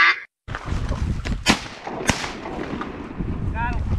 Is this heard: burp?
no